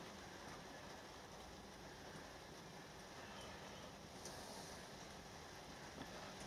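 Steady, even rainfall hisses across the whole stretch, fairly faint and constant, with no voices.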